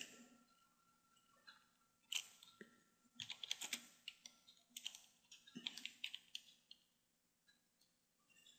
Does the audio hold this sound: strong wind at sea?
no